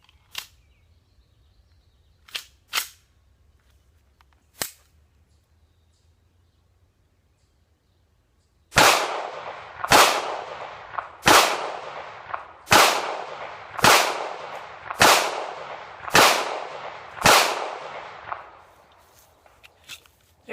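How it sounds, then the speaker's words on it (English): Ruger P90 .45 ACP pistol fired at a range: a few scattered clicks first, then eight sharp, loud gunshots in a steady rhythm, each ringing out briefly before the next. "Let's take a few shots"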